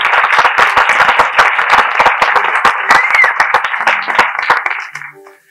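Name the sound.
audience applause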